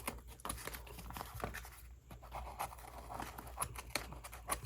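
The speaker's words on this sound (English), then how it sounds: "I'm going to get my scissors in there and cut it." Close, crisp snipping and scratchy rustling of scissors cutting through layered paper towel, a steady series of short cuts with no talking.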